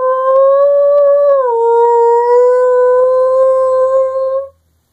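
A person imitates a high-pitched wolf howl calling to pack mates, one long steady voiced tone that dips slightly midway and then holds before cutting off cleanly, loud and close.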